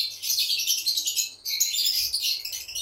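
Lovebirds at a breeding farm in Khulna chirp in bright, busy bursts, close and fairly loud, with a brief gap midway.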